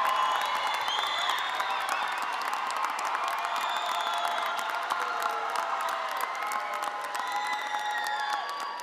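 Graduates at a South Mountain Community College commencement break into sustained applause with cheers and whoops, a full dense roar of clapping from a large crowd in a performing arts hall.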